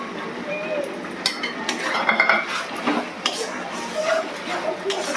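Spiced mutton curry is stirred in a metal pan, a spoon scraping and clinking steadily against the pan while a voice talks over it.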